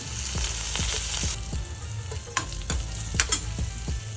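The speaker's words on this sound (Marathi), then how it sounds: "थोडं हलवून घेऊ त्याला" Garlic and green chilli paste frying in hot oil while being stirred, a steady close sizzle broken by repeated scraping strokes of a spoon against the pan, several sharper knocks near the end.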